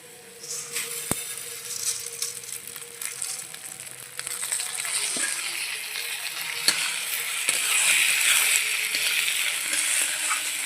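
Rice and fried lentils for khichuri stirred in a hot pan, a continuous close sizzle with scraping and clinking from the utensil, growing slightly louder toward the end.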